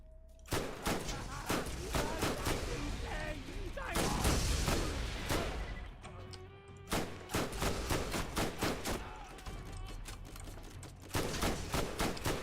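Rapid SMG gunfire in Borderlands, repeated bursts and sustained streams of shots, loud and close throughout, with short pauses between volleys.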